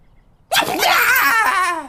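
A single loud sneeze sound effect bursts in abruptly after a moment of quiet, a sharp intake followed by a long, bright, falling exhale that fades toward the end.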